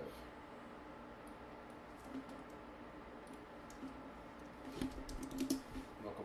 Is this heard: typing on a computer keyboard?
yes